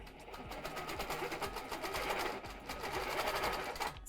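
A longarm quilting machine fitted with a ruler foot stitches in a fast, steady rhythmic run, a close mechanical whir with regular needle strikes that keeps going throughout.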